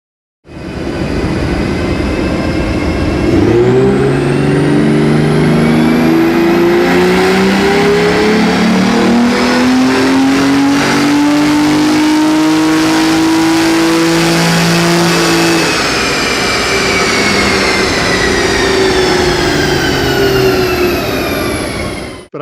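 A car with the secondary catalytic converter deleted revs hard and steadily, its loud exhaust drone climbing and falling in pitch across a long, continuous run without any talk.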